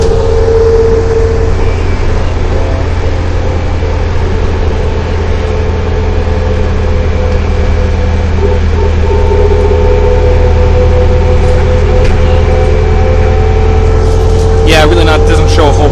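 Inside a non-express city bus on the move, a steady, loud low engine drone and road rumble fill the cabin continuously, with a few rattles and clicks near the end.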